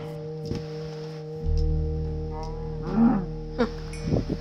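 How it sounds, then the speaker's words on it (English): A cow in the Minecraft video game lets out a low, drawn-out moo, followed by a few shorter game sounds. The moo is clear and close, with no speech over it. "Got a cow. Come here, cow."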